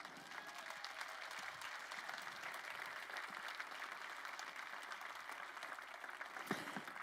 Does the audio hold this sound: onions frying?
no